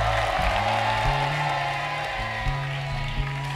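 An audience on a TV talent game show applauds the contestants with a fairly soft, continuous patter of clapping over low, steady background music.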